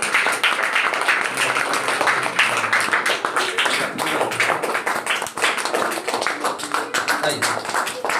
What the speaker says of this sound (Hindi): ताली बजाते रहे बच्चे लोग